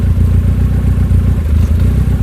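Skoda Estelle 120 with a K series engine, misfiring above certain revs and spitting flames, runs at steady, rough high revs close up, with a throbbing low drone and faint clatter.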